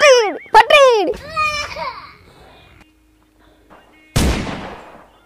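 Diwali firecracker going off: a single loud, sharp bang bursts out near the end, after excited children's voices and a short quiet gap.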